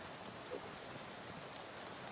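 Steady, quiet rainfall in a video game, a soft continuous hiss of rain on surfaces with no breaks, heard alone without any voices.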